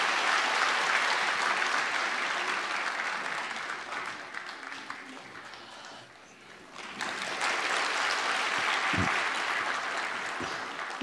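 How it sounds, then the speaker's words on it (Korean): A church congregation at a Sunday worship service applauds to bless a child, sustained steady clapping that dips briefly midway and then swells again, with a few low knocks near the end. "우리 박수로 이 아이를 축복합니다"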